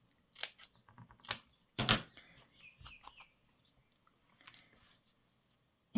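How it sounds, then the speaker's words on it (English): Craft material being cut for a daffodil cluster, a few short quiet snips and rustles close by in a near-silent room. "so I'm going to cut this down just a tad."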